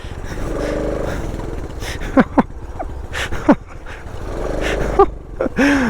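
A small postie bike motorcycle engine hums steadily while being ridden, with a few sharp rev changes and wind buffeting, and a rider's voice occasionally breaking in.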